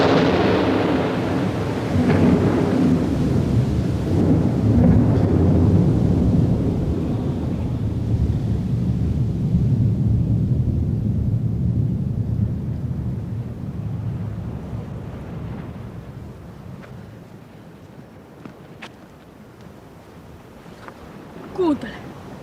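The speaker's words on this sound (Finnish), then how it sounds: "Toi on meren kohina." Roar of the sea heard outdoors near a seaside cottage, a broad, steady rushing wash that is loud at first and slowly fades, with wind buffeting the microphone throughout.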